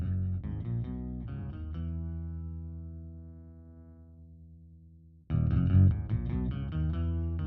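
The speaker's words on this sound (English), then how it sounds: "Now, all of a sudden, we sound like a bass." An electric guitar pitch-shifted down twelve semitones so it sounds like a bass, with a few low notes, then a long sustained note fading slowly before a loud burst of chugging riffs returns, close and alone.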